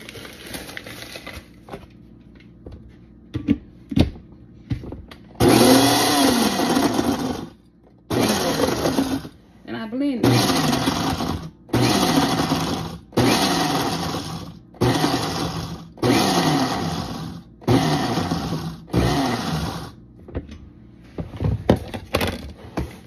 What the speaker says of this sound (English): I pull my blender close to me, and I pour a little bit in here at a time.